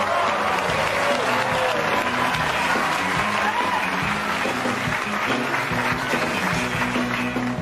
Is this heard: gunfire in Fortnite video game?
no